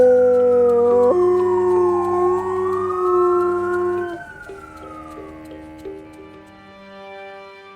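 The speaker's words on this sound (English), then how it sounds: "there's a dog in my neighborhood who howls almost every time the siren" A neighborhood dog howls along with a wailing siren, long rising and falling tones up front that fade and trail off toward the end, with faint ticking underneath.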